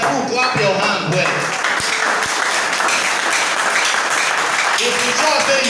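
Audience clapping at a general assembly lecture on petition writing, sustained and fairly loud, with voices heard at the start and end over the clapping.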